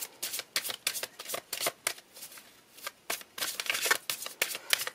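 Tarot cards are shuffled by hand in a quick, crisp run of riffling bursts and soft flicks, close and fairly loud, with brief pauses between passes and no voices.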